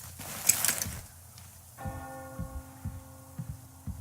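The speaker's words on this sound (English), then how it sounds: "Do you hear that bell?" A church bell tolls in the video game Metro Exodus, a few resonant strokes with long ringing tails that sound moderately distant, following some faint clatter at the start.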